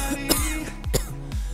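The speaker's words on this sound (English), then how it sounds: "Sorry about coughing, guys." A person coughs three times in quick succession, sharp and close, with short pauses between the bursts, over Call of Duty: Black Ops 3 gameplay.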